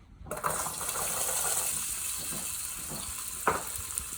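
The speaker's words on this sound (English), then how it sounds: "Now that the olive oil is hot, I'm putting in the celery and the cloves of garlic." Celery and garlic cloves sizzling in hot olive oil in a pan, a steady bright hiss that starts abruptly and carries on evenly, with a couple of soft clicks near the end.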